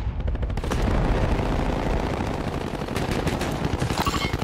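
Gunfire in Call of Duty Warzone, Urzikstan map, a dense rattle of automatic shots and bursts at moderate level, continuous through the stretch with sharper cracks near the end.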